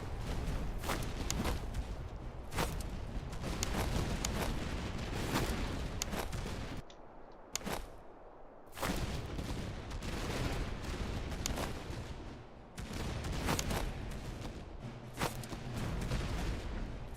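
Musket volleys crackle in the Master of Command video game during a French line battle, a dense and continuous stream of shots that briefly drops out before resuming at full intensity.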